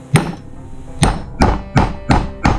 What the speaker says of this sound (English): using a heavier hammer really helps in this process